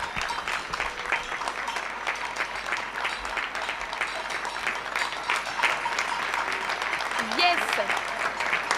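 Neighbourhood applause rings out across Belleville for healthcare workers: dense, steady clapping from many hands at a distance, with voices mixed in throughout.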